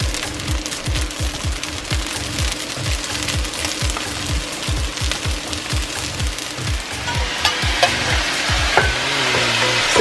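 Bean sprouts and linguine stir-fry in a pan for a Pad Thai-style dish, a loud steady sizzle under quick rhythmic scraping and tossing strokes that keep a brisk, regular beat.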